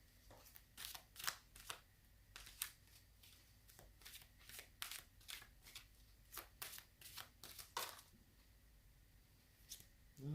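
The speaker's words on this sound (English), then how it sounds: "So we're gonna pull one Indigo Angel card for you." Indigo Angel oracle cards are shuffled in repeated close, crisp bursts of riffling and flicking, soft and continuous over about ten seconds with no talking.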